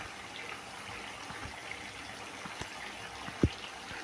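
Egg curry simmering in a pan gives off a faint, steady bubbling and gurgling throughout, with one sharp tap near the end.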